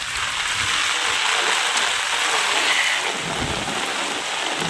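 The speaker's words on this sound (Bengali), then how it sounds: "মুষলধারায় বৃষ্টি হচ্ছে।" Torrential rain pours down during Cyclone Remal in the Sundarbans, a steady, loud, dense hiss of heavy downpour that runs unbroken from start to end.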